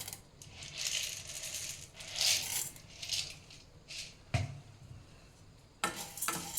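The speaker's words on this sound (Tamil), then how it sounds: "சிம்பில் வச்சு தான் வறுக்கணும் கருக்காமல் வறுக்கணும்" Toor dal and chana dal dry roasting in a pan over low heat, loose grains rattling and shuffling in bursts of stirring, with a couple of sharper metallic clinks near the end and no talk.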